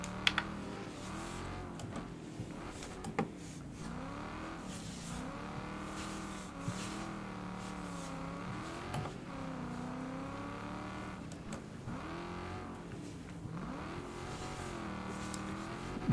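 Racing car engines in the video game Wreckfest 2 roar and whine continuously, revving up and down as cars pass, heard from outside the car, with no talking.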